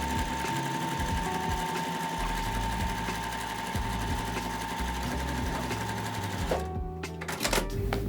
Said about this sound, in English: We're gonna sew our rows together, right sides together, and finish this thing off